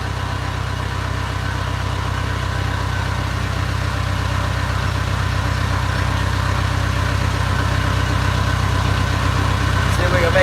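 A boat engine trolling at 3 knots while fishing, a steady low droning hum with an even vibration that holds constant and close throughout, with no pauses.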